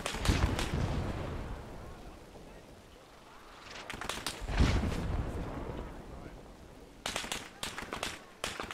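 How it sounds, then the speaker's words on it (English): Gunfire in the Vietnam war game Battle for Hue City comes in heavy bursts, with loud rapid volleys near the start, middle and end, separated by a quieter rumbling background. "there's a fucking rapid fire MG up there"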